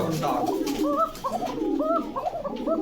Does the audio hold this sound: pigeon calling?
yes